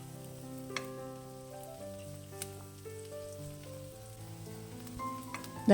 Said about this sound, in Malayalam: ഞാനിതിപ്പോൾ ഉപ്പൊന്നും ചേർക്കാതെ വഴറ്റിയെടുക്കുകയാണ്.